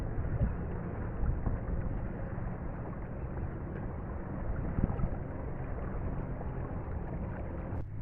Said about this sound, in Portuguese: Está ventando muito, pessoal.